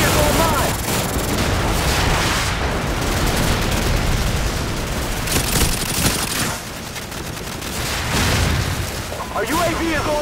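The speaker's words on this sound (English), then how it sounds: "airstrike on the way!" Airstrike explosions and rapid gunfire in Call of Duty 4, loud overlapping booms and bursts of shots filling the mix continuously, with in-game voices calling out over the battle.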